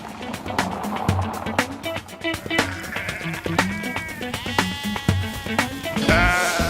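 A flock of around 200 sheep bleats repeatedly, with overlapping near and distant calls over a busy background of clicks and knocks.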